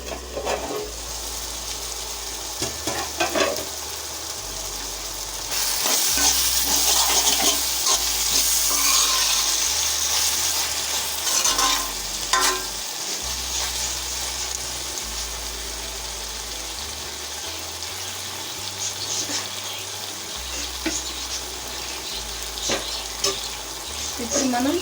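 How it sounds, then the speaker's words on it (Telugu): Ingredients sizzle in a hot pan while a spoon stirs and scrapes at intervals, a continuous close frying hiss that swells louder partway through, with no talk. "ఇప్పుడు కాసేపు ఫ్రై అవ్వాలి."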